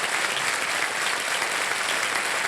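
Studio audience on the KBC game show bursts into sustained, dense applause, loud and even from start to finish with no voices on top.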